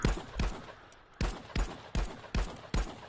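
Rapid gunfire from a VR shooting game felt through an Enforcer haptic gunstock, with six sharp, loud shots in an uneven quick rhythm and a short pause partway through.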